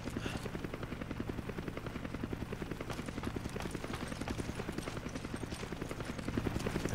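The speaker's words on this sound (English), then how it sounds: "Are you just focusing on the helicopter?" A helicopter in Resident Evil 5 throbs with rapid, steady rotor chops, a continuous beating pulse at moderate loudness that stays constant throughout, with no clear talking.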